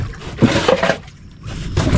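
Paddle strokes on water from a small boat heading out to a nearby fishing spot in the Philippines, two or three close splashing, gurgling pulls with brief pauses between them.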